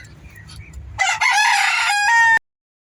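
A rooster crows once, loud and close, a drawn-out cock-a-doodle-doo that cuts off sharply after faint background sounds.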